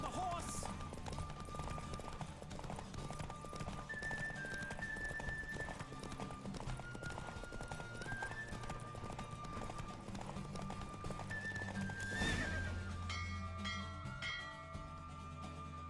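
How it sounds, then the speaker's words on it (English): Horse galloping during a race in a video game, rhythmic clip-clop hoofbeats running continuously at a fast pace under game music, with a brief whinny-like burst near the end. "Don't spare the horse!"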